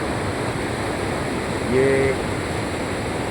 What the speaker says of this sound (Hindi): ये इस वक्त हम किशनगंगा नदी के बिल्कुल किनारे पर आ गए हैं